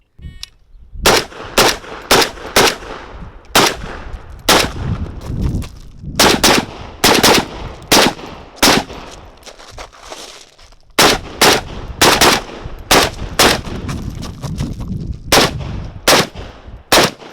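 Rifle fire on a shooting drill from a ZPAP M70 or Arsenal 107R: loud, close, sharp shots in quick bursts of four to six, separated by short pauses, repeating across the whole stretch with no talk.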